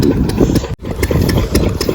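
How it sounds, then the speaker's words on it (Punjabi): A farm engine runs steadily and loudly, its chugging throb continuous apart from a brief dropout midway. "ਆਪਾਂ ਉਹ ਇੰਜਣ ਚਲਾਇਆ"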